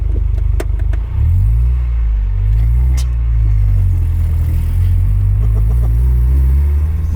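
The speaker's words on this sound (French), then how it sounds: "Je parle des vibrations du moteur en embrayant." A Peugeot 205 Rallye engine rumbles low and steady from inside the moving car, the drone rising and falling slightly with throttle changes, with a brief dip near the start and no talking.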